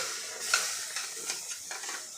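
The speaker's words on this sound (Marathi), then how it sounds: "तर इथे बघा, अशा पद्धतीने आपल्याला थोडं थोडं दूध घालून घ्यायचं आहे" Milk is poured a little at a time into moong dal halwa cooking in a pan, giving a continuous sizzling hiss with soft stirring scrapes, close and steady, without any voices.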